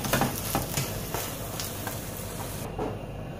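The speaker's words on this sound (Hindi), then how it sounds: "ये देखिए अंडा फ्राई हो रहा है।" An egg sizzles and crackles in hot cooking oil in a pan, a steady close frying hiss with soft scraping bursts throughout and no voice over it.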